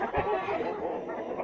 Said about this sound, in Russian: Ага, курица сидит